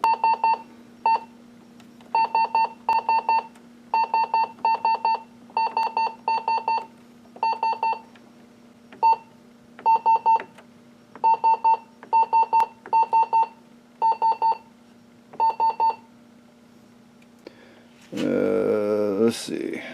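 Repeated short electronic beeps in quick clusters from a Brother MFC-8890DW printer's control panel buttons, bright and steady over a low hum, ending with a brief burst of noise.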